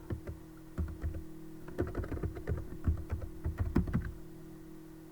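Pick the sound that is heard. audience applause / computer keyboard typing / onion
computer keyboard typing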